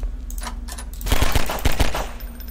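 Pistol gunfire in the Garry's Mod video game, a quick burst of several loud synthetic shots in rapid succession over a background hum.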